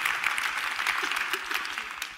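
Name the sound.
audience applause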